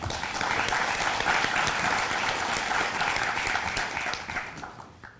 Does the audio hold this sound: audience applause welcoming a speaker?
yes